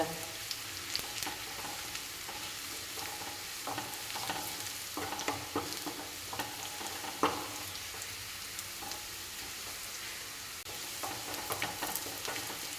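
Sliced onions fry in oil for a coconut curry, a steady sizzle broken by frequent spoon-stirring clinks and scrapes close up, with no talking.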